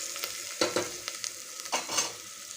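Chopped beans tossed into hot oil with ginger-garlic paste and stirred, giving a few close scraping spatula strokes over a soft, continuous sizzle.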